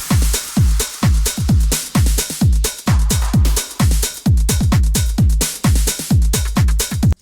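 Weird house noise sample from Splice, treated with EQ, delay and reverb: loud, dense repeating bursts with deep downward-sweeping booms and bright noisy tops pulsing in a steady fast rhythm, no voices.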